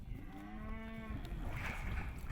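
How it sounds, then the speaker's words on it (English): Bulls in a corral on a Western ranch, one close, drawn-out moo rising and falling over a low background rumble. "Even after a long journey and being corralled, bulls will be bulls."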